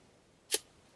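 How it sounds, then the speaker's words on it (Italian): A Hasselblad camera's central leaf shutter fires once with a single crisp, brief click, close up and isolated against near silence. "quando scattiamo, si muoverà soltanto l'otturatore centrale e non avremo alcun problema di micromosso"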